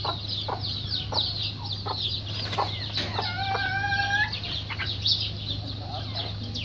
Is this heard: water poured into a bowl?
no